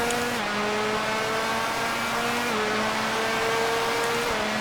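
A two-stroke racing motorcycle engine in the MotoGP 4 video game screams at high revs on the Phakisa Freeway circuit, a loud continuous buzzing whine that drops briefly with each gear change and climbs again.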